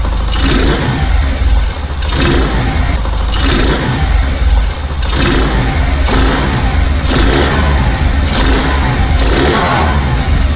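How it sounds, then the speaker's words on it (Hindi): A motorcycle engine running without its air filter runs loudly and roughly, its rumbling idle rising in a few repeated revs, with no voices. "तो ये देखिए बाइक को कर दिया मैंने स्टार्ट"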